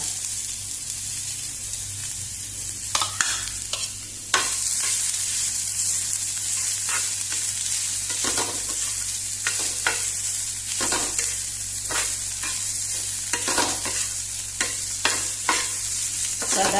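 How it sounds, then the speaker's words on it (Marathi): Onions sizzle steadily in hot oil in a pan for a Konkani papad fry, with repeated scraping stir strokes over a constant broadband frying hiss, close and fairly loud, no voices. "आणि आता तातूंत कांदो घालुया"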